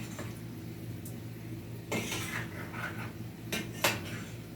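Potato wedges are turned over in frying oil with a metal utensil, giving a few sharp clanks against the pan over a steady background sizzle.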